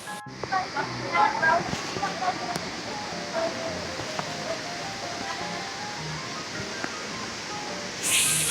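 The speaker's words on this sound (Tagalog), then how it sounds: "Grabe guys, ang lakas ng agos." Strong current of Pinlock Falls, a steady broad rush of falling water heard close and continuous, with people talking excitedly over it.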